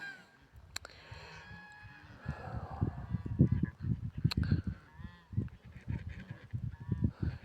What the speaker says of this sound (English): that goose has a problem